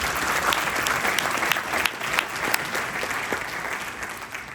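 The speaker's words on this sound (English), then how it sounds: "So I think we should give ourselves a round of applause." Audience applause fills a Rotary zone gathering, steady dense clapping from a sizable crowd lasting throughout, loud and close with no talk over it.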